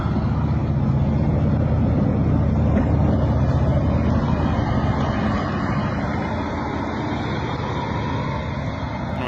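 A T-72 EA tank towing a disabled YPR-765 armored vehicle off a field, a loud continuous engine rumble and grinding drone that holds steady throughout, with no speech.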